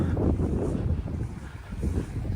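Wind buffets a weather station mast with a small Davis Vantage Pro2 outdoors, a steady low rumbling roar with gusty swells, close to the microphone and heard alone.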